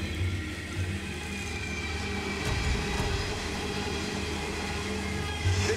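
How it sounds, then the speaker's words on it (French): A long coal freight train on a private mining line rolls steadily through the bush toward the ocean, a continuous heavy rumble of wagons and wheels passing close by without pause. "Des trains de charbon comme celui-ci,"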